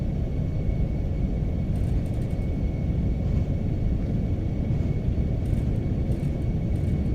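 Airliner engines in a flight simulator holding takeoff power on a leg from Manila to Macau, a steady, loud, dense roar and rumble with faint higher whine, unbroken throughout.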